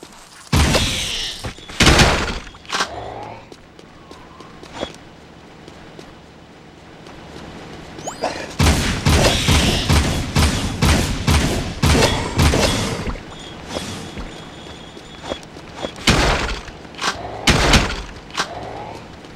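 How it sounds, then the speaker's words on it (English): Punching and gunfire in the video game Jak II, loud bursts of rapid impacts and shots in clustered volleys separated by quieter stretches, no speech. "That whole punch and shoot combo is pretty nice."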